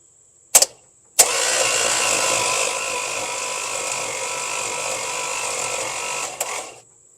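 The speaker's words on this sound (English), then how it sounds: "Let's give it a few rounds with the starter," A seized Slant Six engine is spun by its starter after being freed up by hand. It gives a couple of short clicks, then one steady whirring crank of about five seconds that stops abruptly.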